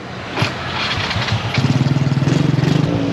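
A Kawasaki KX 85 dirt bike engine catches and runs, with a steady fast pulsing putter that builds after a brief mechanical clunk, close and fairly loud with no talk over it.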